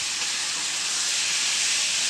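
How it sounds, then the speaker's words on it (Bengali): Chicken being sautéed (kosha) in a pan, a loud, steady, close frying hiss and sizzle that holds without a break, with no voices. "আর চিকেনটা কষা হচ্ছে"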